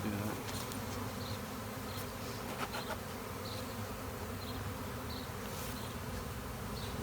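Bees buzz steadily around the slotted entrance of a hive, a continuous close drone with occasional louder passes of individual bees near by.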